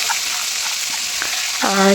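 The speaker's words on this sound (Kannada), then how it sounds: "ಈಗ ಅದಕ್ಕೆ ಮ್ಯಾರಿನೇಟ್ ಮಾಡಿರೋ ಚಿಕನ್ನ ಹಾಕಿ" Marinated chicken hits hot oil in a pan with cinnamon, cloves, cardamom and bay leaf for a green chicken gravy, giving a steady loud hiss and crackle, and a voice is heard briefly at the end.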